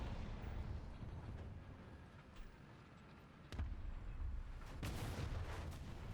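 A missile strikes a vehicle in War Thunder: a sharp impact near the middle gives way to a heavy rumbling blast, with a second burst of noise following, all over a constant low battlefield rumble.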